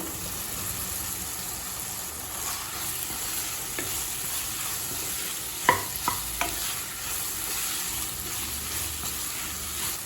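Soya chunks sizzle and fry in a tomato masala with separated oil, a steady crackling hiss with a few sharp clinks of a spoon stirring against the pan.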